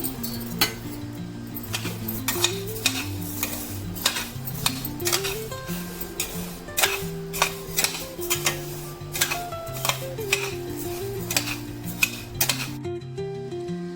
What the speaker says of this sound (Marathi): तांदूळ टाकायचे आणि हे सर्व आपल्याला मंद आचेवर भाजायचं आहे